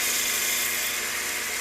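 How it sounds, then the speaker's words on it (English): A metal lathe takes a spring pass on a pulley, giving a steady high-pitched whine and hiss of cutting that holds even throughout, close and fairly loud. "And then I'll just do a spring pass all the way out."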